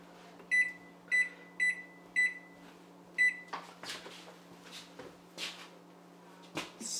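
Kitchen oven controls being set to preheat to 375, giving five short electronic beeps in a quick row, followed by faint clicks and soft handling noises in a quiet room with a steady hum.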